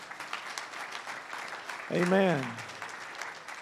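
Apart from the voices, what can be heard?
church congregation applauding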